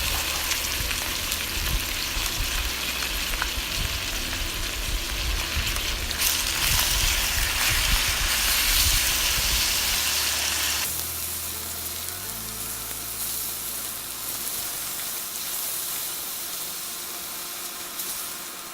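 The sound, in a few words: ground beef frying, broken up with wooden spoon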